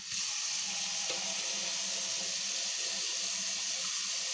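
Tap water runs steadily into a bowl to cover salt cod for soaking, a constant hissing rush that stays fairly loud and unbroken throughout, with no talking.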